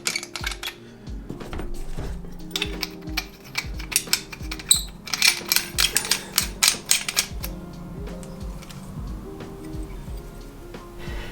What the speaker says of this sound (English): The emitters unscrew here and can be interchanged with the additional blade holder emitter, like so.